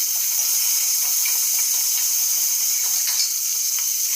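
Peas and potatoes sautéing in a pan in a home kitchen, giving a steady, close, even sizzle and hiss of frying that continues without pause and without talk.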